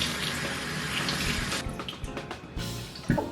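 Tap water runs steadily into a kitchen sink while strawberries are rinsed, a bright splashing hiss that gives way to lighter, intermittent splashes and small clinks near the end.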